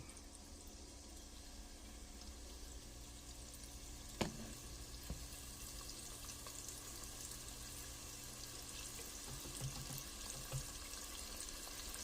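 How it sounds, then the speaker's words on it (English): Hot grease heating in a pan for frying orange pepper chicken wings, a faint, steady sizzle with a couple of soft clinks, no voices. "my grease is already getting hot"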